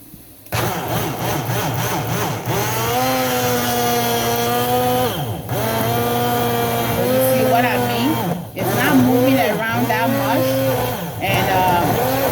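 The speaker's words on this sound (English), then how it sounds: "I love this little blender." A small kitchen blender motor whirs loudly in several long bursts while blending with water, with brief pauses between them and its pitch dipping and recovering as it runs.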